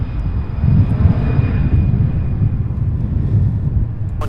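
A heavy UPS freighter jet taking off at SDF airport, a loud, sustained low engine roar with rumbling texture, steady and nearby with no voices.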